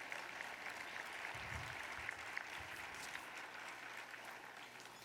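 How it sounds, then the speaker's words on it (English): Audience applause fills a law school commencement ceremony for the 2021 graduates, a steady, moderate wash of clapping with a faint low murmur beneath, sounding somewhat distant in a large space and holding even throughout. "Yes, do applaud for that."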